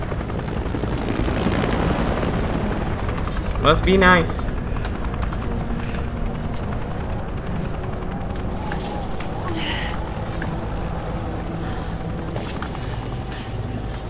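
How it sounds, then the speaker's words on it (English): A helicopter passes in Resident Evil 5 at the volcano finale, a brief swell of rotor chop standing out from a steady wash of game ambience and music, with a character speaking. "And you guys just happen to have a helicopter flying by"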